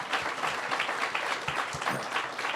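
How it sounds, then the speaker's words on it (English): An audience at a ribbon-cutting event claps for the Borough President, a short burst of steady applause heard from within the room, fairly soft. "Please give him a big round of applause."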